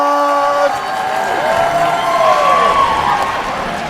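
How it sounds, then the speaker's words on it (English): An audience applauds and cheers as Santa Claus is welcomed at a leadership event, a sustained loud crowd roar with whoops and a steady tone running under it. "Round of applause for Mr. Santa Claus"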